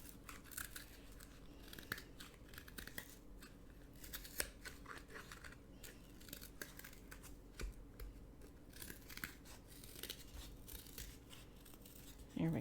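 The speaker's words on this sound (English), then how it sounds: "When we're cutting, we want to be very safe with our scissors." Scissors snip through boondoggle lace in a quiet, close series of small irregular cuts and clicks with soft handling rustle between them.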